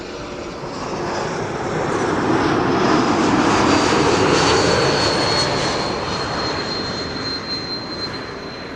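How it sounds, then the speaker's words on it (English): A KLM Embraer 195 E2 jet lands at Schiphol, its broad engine roar swelling to a peak midway and easing off, with a thin high whine riding above the rumble. "This is KLM flight 1772. Arriving from Berlin. E2 Embraer 195."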